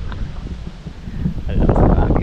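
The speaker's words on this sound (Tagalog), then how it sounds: "Ang lakas ng hangin, ang lamig." Strong, cold wind blowing steadily outdoors, a broad rushing roar that builds louder toward the end with gusty buffeting against the microphone.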